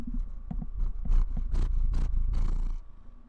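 A pet cat purrs right up against a microphone, a close, low rumbling with rhythmic pulsing bursts that fades quieter at the end, with no voices.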